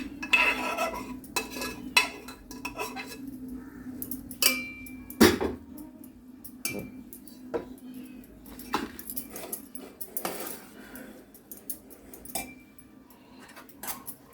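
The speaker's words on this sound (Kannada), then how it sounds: "ಕಡಲೆಬೇಳೆ ಬೇಯಿಸ್ಕೊಂಡಿರೋದನ್ನ ಒಂದು ಪಾತ್ರೆಗೆ ಶಿಫ್ಟ್ ಮಾಡ್ಕೊಳ್ಬೇಕು" Cooked chana dal and rice being moved into a cooking vessel for payasam, heard as repeated clinks and scrapes of a metal spoon against a steel pot, close and intermittent, with no talking.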